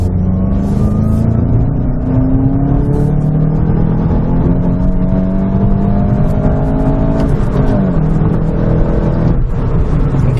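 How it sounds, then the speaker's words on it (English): A 2017 VW Golf GTI in sport mode accelerates hard at full throttle, its engine note climbing steadily and loudly through gears with a brief shift dip, sustained throughout with no talking. "And now we're in sport mode, we'll go full throttle."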